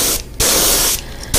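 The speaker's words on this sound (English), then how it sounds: "by lightly pressing the trigger with a higher pressure" A paint spray gun sprays white paint onto fishing jerkbaits: two loud, hissing bursts separated by a brief pause as the trigger is released and pressed again.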